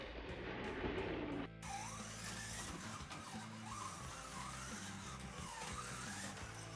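Small BRM 1/24 scale Simca 1000 Rallye 3 slot car drifting sideways through corners, a steady electric motor whine rising and falling continuously as it accelerates out of each bend.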